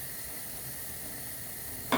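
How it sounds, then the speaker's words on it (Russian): Gluten-free corn flatbreads fry in a pan with a steady, even sizzle and hiss throughout, ending in a brief clatter right at the close. "Так, вот жарим."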